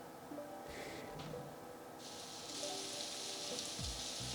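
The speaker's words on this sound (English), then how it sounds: "So here's rain." A soft, steady hiss of rain, played as an ambient-noise demo on JLab Epic Lab Edition earbuds, fades in and grows fuller partway through, faint and even, with no talking.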